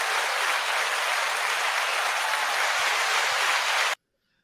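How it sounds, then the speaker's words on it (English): Loud, sustained applause from a large audience, a dense wash of clapping that cuts off abruptly into silence near the end. "give a round of applause for this young gentleman"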